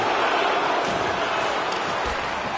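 Home crowd noise in an NHL 24 hockey video game, Buffalo Sabres versus Philadelphia Flyers: a steady, dense arena roar with murmuring voices throughout, no distinct cheers or claps standing out.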